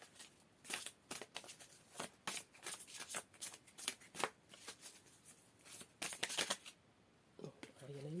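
Tarot cards being shuffled by hand, a run of quick riffling bursts in an irregular rhythm, close and fairly quiet, with a brief voice near the end.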